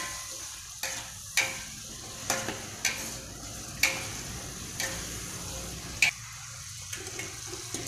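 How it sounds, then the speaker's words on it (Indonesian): Fried tempe being stirred into sambal in a frying pan, heard as a soft steady sizzle under repeated sharp scraping clicks of a utensil against the pan at an uneven rhythm, close and fairly quiet. "Masukkan tempe yang sudah digoreng, sambil diaduk rata."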